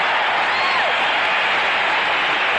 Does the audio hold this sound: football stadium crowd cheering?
yes